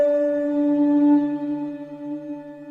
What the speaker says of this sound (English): It's cool, it's got this sort of fluty but also sort of stringy sound.